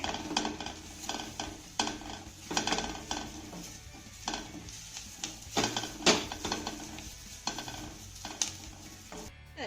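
A spiced filling of chopped ingredients with handfuls of coriander is stirred and mixed in a bowl, producing repeated close scraping and clinking strokes in an uneven rhythm, with no speech.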